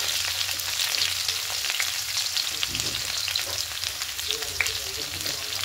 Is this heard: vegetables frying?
yes